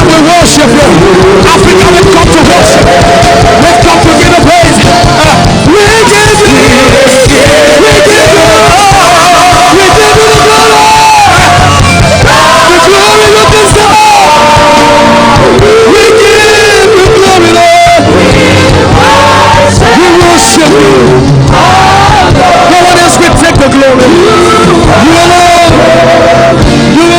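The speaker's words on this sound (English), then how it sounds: "all the clap and the shout of joy in this house this evening." A church congregation at an evening Let God Arise worship service fills the room with loud, continuous hubbub, shouting and cheering, with singing and music blending in throughout.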